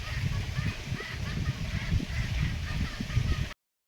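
Chickens clucking and honking in a busy village flock, continuous dense calls close by with no clear pauses.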